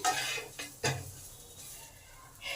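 Cumin and garam masala powder with turmeric being stirred in a pan, giving a few scraping, clinking utensil strokes against the metal, quiet and close, with no talking.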